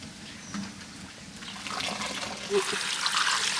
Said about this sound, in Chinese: 哦，咱们海带好了，去冲水